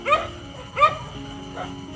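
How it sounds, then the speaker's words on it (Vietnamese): Dogs barking at night near a late-night catfish fishing spot, two short clear barks followed by a fainter third, with a steady low hum underneath. "chó sủa quá trời."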